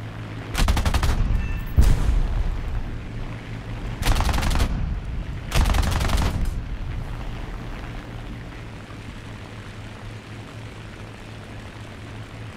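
The twin nose machine guns of a CR.32 biplane in War Thunder rattle out in three loud bursts, each lasting about a second, over the constant drone of the aircraft engine, which continues alone afterward.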